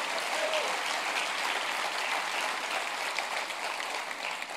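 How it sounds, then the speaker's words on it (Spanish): A church congregation applauds at a Sunday devotional service, a steady wash of clapping that stays even, then eases slightly toward the end. "Denle un aplauso al Rey bendito."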